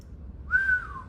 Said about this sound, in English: My GOAT is whistling because it's so cold.